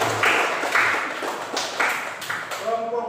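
Classroom applause for a student group, several bursts of clapping from a class of students, close and fairly loud, ending with a brief ringing tone.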